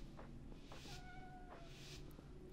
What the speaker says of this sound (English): I'm petting my cat right now.